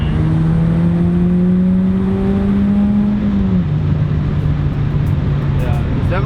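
A turbocharged daily-driver car engine revs hard, its tone climbing steadily for a few seconds before bouncing off the rev limiter and dropping to a lower, buzzy drone, heard close and loud with people talking over it.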